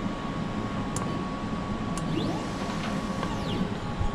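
A REVEL DTF-2402 printer steadily lowers its print head after a nozzle check, giving a continuous mechanical whir with a faint high whine and a couple of small clicks.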